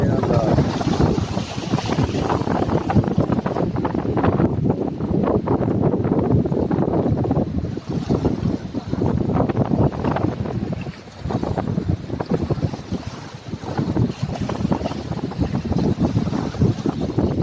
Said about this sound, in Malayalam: ബോട്ട് കടലിലേക്ക് പോവാ.